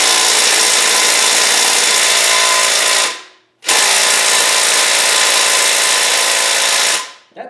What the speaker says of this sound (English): This is the little, you know, put screws in plywood kind of tool.